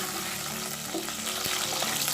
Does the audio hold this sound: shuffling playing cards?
no